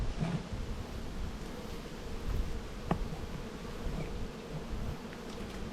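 Honey bees at an opened backyard hive in Australia make a steady, low, fairly quiet buzz, a continuous insect drone with faint rustling and no speech.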